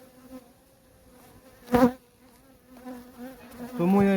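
Honey bees buzz steadily close by at an open hive frame, a continuous droning hum with a brief louder burst midway and the pitch swelling near the end.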